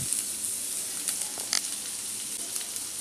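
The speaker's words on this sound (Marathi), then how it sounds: "ह्याला जरासं परतून घेऊया आपण" Egg hakka noodles with capsicum sautéing in a hot pan give a steady, close sizzle with light stirring scrapes and a brief clatter near the middle, no voices.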